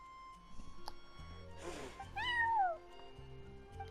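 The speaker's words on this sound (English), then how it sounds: "that's my neighbor's cat" A cat meows in the video game Genshin Impact, one drawn-out, rising then falling meow standing out clearly over a quiet background with soft tones and faint rustling around it.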